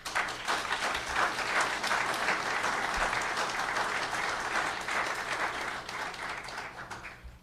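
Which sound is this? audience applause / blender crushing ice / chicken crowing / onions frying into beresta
audience applause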